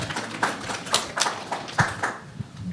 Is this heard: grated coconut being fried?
no